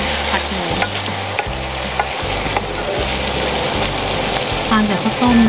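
Pork stir-fries in a hot pan, a loud, close sizzle broken by rhythmic scraping strokes of the spatula, with a brief bit of talk near the end.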